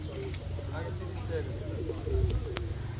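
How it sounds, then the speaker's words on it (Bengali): Pigeons in a park beside the Padma river at Bheramara coo softly in low repeated calls. Outdoor ambience runs under them, and a person talks nearby. "এটার ভিতর কবুতর কড়কড় কড়কড় করছে"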